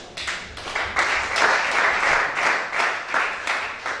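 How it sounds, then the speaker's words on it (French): A congregation at a prayer vigil in Gabon claps and cheers continuously, loud and close, in a dense steady burst of applause with no clear speech. "Acclame chacun."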